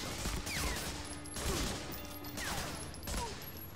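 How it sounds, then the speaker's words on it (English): MP40 submachine gun fire in the video game Medal of Honor Frontline, several rapid bursts repeating through the moment over steady game ambience. "I'm shooting everywhere but where the enemy is. When I'm using the MP40, I'm not good at it at all."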